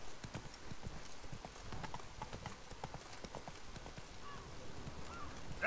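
Roach the horse gallops in The Witcher 3, hooves clip-clopping in a quick, steady rhythm that runs through the whole stretch, loud and close against a faint background.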